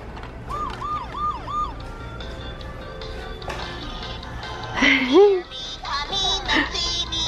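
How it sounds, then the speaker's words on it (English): Toy police car siren wailing in repeated rising and falling sweeps, close by, then shifting to faster warbling tones, with background noise and a few clicking mechanical sounds. "Ooh, a police car."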